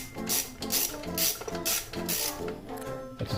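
A ratchet works loose rusty throttle body bolts on a Jeep TJ during a BBK throttle body install, giving close, steady runs of rapid clicking with short pauses between strokes, and no voices.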